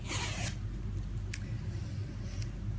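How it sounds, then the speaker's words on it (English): A zipper fitted with a small teacup-shaped pull on a knitting project bag rasps quickly once up close, followed by a few faint clicks and scrapes over a low background hum. "I got the little teacup zipper pull that Amber gave me."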